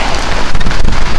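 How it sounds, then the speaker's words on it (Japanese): Torrential downpour drums loudly on a bicycle's rain canopy, a dense close roar of heavy drops hammering the cover without pause. "ほんまの土砂降りです。"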